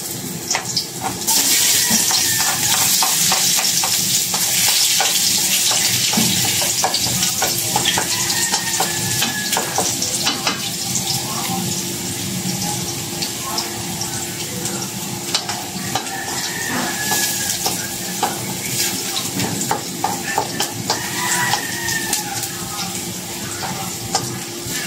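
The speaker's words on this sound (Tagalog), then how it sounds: "Ilagay na natin ang bawang." Garlic fries in a hot pan for chicken binakol, a loud, continuous close sizzle and hiss with scattered stirring clicks throughout.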